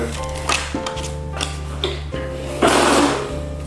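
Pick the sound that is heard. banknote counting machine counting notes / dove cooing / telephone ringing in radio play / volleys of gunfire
banknote counting machine counting notes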